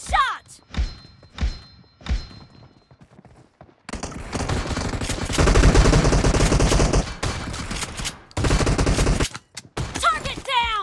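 Gunfire in the mobile battle-royale game PUBG Mobile, starting with a few isolated thumping shots and building into a dense, sustained stretch of rapid fire, with brief game sounds in the gaps.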